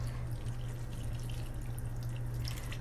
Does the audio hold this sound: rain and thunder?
no